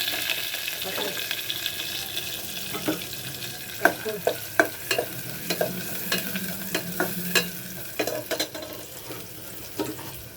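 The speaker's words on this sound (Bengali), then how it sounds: "একটু গোটা জিরে পেঁয়াজ রসুন দেবো এখন" Whole cumin, onion and garlic fry in hot oil, a close crackling sizzle punctuated by a series of sharp spatula clacks and scrapes as the mixture is stirred.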